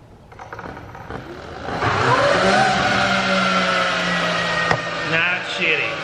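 Electric bike being ridden, a rising whine and motor drone building from about two seconds and holding loud and close, with people talking over it.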